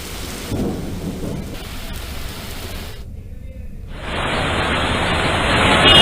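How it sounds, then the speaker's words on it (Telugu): Heavy rain pours steadily on Hyderabad in a dense, loud wash of noise, with a rumble of thunder underneath and the downpour swelling toward the end. "కుండపోత వర్షం పడింది"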